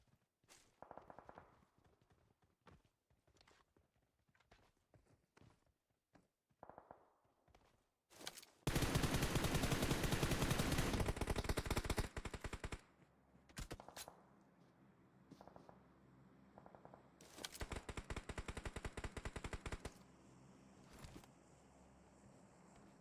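Gunfire in an esports video game match: scattered single shots and footsteps, then long dense bursts of automatic fire, loud and close, with quieter stretches between volleys and no talk.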